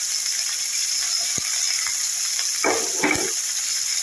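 Salt, green chili and a little turmeric fry in a pan, giving a steady high sizzle throughout, broken by a few brief stirring scrapes near the end.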